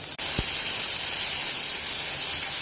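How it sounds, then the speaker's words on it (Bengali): Potatoes fry in hot oil in a pan with a loud, steady sizzling hiss that holds evenly and close throughout, after a brief dip at the start. "আলুটা একটু ভেজে নেবো"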